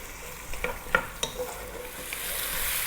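Celery and carrot, with potatoes added, sauté over medium heat in a pot, making a soft steady sizzle broken by a few scraping stirs and clinks from a spoon, close and fairly quiet.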